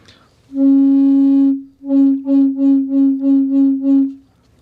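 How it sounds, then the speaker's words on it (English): Drone pipe of a Native American drone flute holding a single low note: one long sustained tone, a short gap, then seven tongued repeats of the same pitch in an even rhythm, close and clear with nothing else. "So the drone pipe sounds like this. It just does one note."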